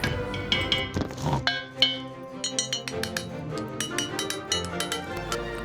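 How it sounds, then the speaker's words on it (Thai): Sharp metallic clinks and taps ring out in an irregular series, bright and close, as a hammer knocks rust debris out of a C30 crepe gas stove burner. "ก็เคาะเอาออกมานะฮะจะใช้ค้อนช่วยเคาะด้วยก็ได้"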